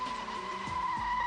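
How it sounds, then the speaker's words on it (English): A BMW Z3 M Roadster drifting under full throttle gives a sustained high tyre squeal over engine roar, with two quick falling engine sweeps as the throttle shifts, close and loud in one brief burst. "Turn hard into a bend to get the back out, then catch the slide. Now apply full throttle."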